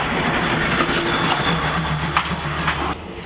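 Train rumbling and clattering past through the Shimonoseki morning market street, a continuous loud close roll of wheels on rails with rhythmic clicks, heard alone.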